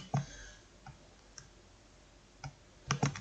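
Several sharp computer mouse clicks while a JDK 1.8 setup is finished in a Java development tool, scattered singly and in a quick pair near the end, quiet and close with no talk.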